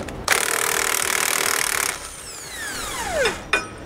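Bolts come off a steering stabilizer mount on a 1999 Freightliner using a 1⅛-inch wrench and socket: a loud, steady tool buzz runs for over a second, then a falling whine and a metallic clank, close and alone.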